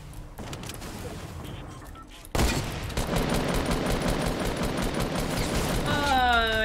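Gunfire in the Fortnite battle royale game: rapid bursts of shots crowd the second half after a quieter start, with game effects near the end.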